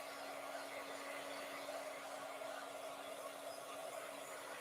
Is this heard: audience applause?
no